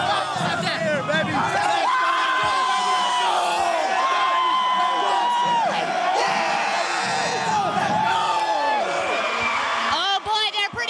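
Pumped-up crowd at a Steel Canyon school pep rally cheering, whooping and yelling continuously, a loud dense wall of young voices with shouts rising over the babble throughout.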